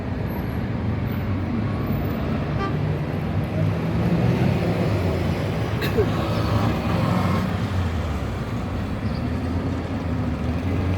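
Dense, steady roar of traffic circling a roundabout in Mexico City's historic centre, engines and road noise blending into a continuous wash heard close by.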